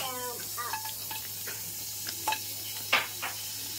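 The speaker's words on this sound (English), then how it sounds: "So what we do is we will cook using the frying pan." Shrimp frying in a pan, a steady faint sizzle with a few brief louder spits and stirring scrapes, no talking.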